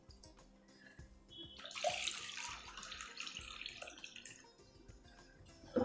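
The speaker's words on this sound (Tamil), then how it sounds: "நல்லா 2 தடவை தண்ணி விட்டு அலசிடுங்கோ." Water pouring and swishing as flattened rice (poha) is rinsed for sweet pongal, with splashing and light clatter, fairly quiet and close.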